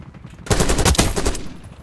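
Video-game gunfire from a long gun: a rapid burst of loud, close shots in quick succession lasting about a second, then a short fading tail.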